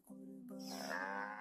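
A goat kept for Qurbani sacrifice gives one long, drawn-out bleat close to the listener, rising into a strained, nasal cry.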